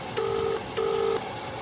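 Telephone busy tone after a call to an MP is cut off: two steady beeps, each about 0.4 s long, separated by a short pause. The beeps are clear and sound alone, with no talking.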